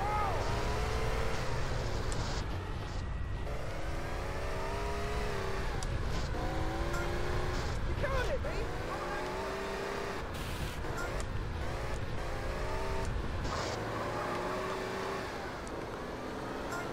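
Engines of racing cars in GTA San Andreas drone and rev steadily throughout, with harmonic pitch sweeps as they accelerate and change gear, mixed with a continuous low rumble.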